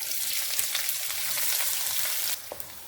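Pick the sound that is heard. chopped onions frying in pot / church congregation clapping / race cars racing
chopped onions frying in pot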